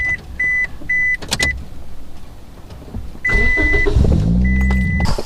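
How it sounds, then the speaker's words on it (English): Beeping tones, then the engine of a 2006 Scion xB with a vacuum line disconnected from the brake booster cranks and catches, running rough and uneven with a low, struggling throb close by. "we're gonna go ahead and start the car. It's gonna run like crap"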